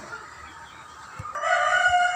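Soft clucking from about thirty native-breed hens over a quiet yard, then a rooster starts a loud, drawn-out crow near the end.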